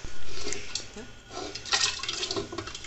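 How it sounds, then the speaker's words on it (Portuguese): Water is poured into a pressure cooker in a rural kitchen, a short splashing, gurgling stream that fills the pot at close range over a low background. "já vou botar água na panela de pressão"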